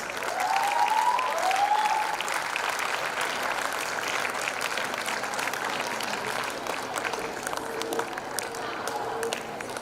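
At a school's annual prize day, an audience applauds at steady strength for nearly ten seconds, a broad crackle of many hands, with a short voice near the start and faint murmurs under the clapping.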